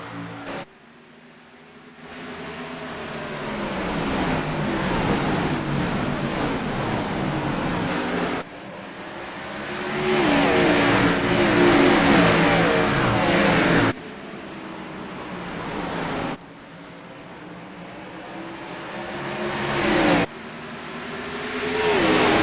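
Race cars on the opening lap at Richmond in an ANZCAR Cup race, a loud continuous roar of engines rising and falling in sections as the field passes, with abrupt shifts in intensity between segments.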